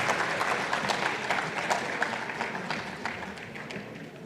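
At a digital power summit, a conference audience gives the speakers a round of applause, with continuous dense clapping and scattered sharper claps that gradually taper.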